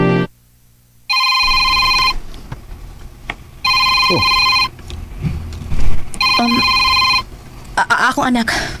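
A mobile phone ringtone sounds for an incoming call from the owner's child, three loud bursts of bright electronic tones separated by pauses, with people talking faintly in between.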